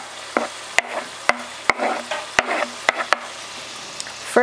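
Onions frying in a pan beside bacon fat, a soft bubbling sizzle under sharp repeated clicks and taps of a utensil stirring and knocking against the pan at irregular intervals.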